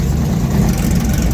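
An old Porsche 911 Carrera Classic race car's engine runs loudly and close at a steady, rough idle in the paddock at Road Atlanta during the HSR Classic.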